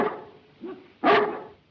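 A dog barks close by: one sharp bark, a softer short yelp, then a louder harsh bark, with no talking.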